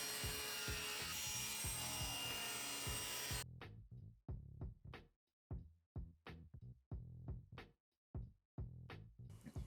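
A table saw ripping a walnut board into 2-inch strips, with a dense continuous cutting roar that stops abruptly, followed by a series of irregular knocks and scrapes of wood being handled.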